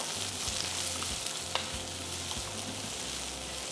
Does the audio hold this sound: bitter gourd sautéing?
yes